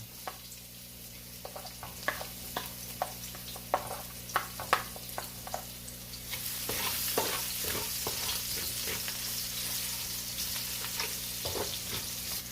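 Garlic and onion sautéing in a pan for pancit palabok: scattered taps and stirring clicks at first, then a loud, dense, steady sizzle takes over for the rest, with no talking.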